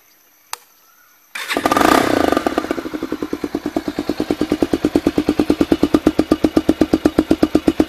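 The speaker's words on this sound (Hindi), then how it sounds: "बाइक का पूरा साउंड चेंज हो चुका है। जैसे KTM ड्यूक का साउंड होता है वैसे साउंड आ रहा है।" A motorcycle with a modified aftermarket exhaust, said to sound like a KTM Duke, cranks over and fires up, then settles into a loud, close, rapid and evenly pulsing idle with no talking.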